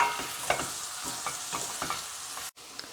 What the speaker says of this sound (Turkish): Havuçlarla birlikte biberlerimizi de ekliyoruz. Şimdi bunlar da biraz yumuşasın kavuralım.